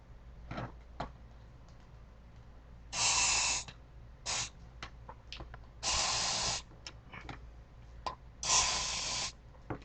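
Silicone is sprayed into cups of acrylic pour paint in three short, hissing bursts, each lasting under a second, with quiet handling noises and small clicks in between.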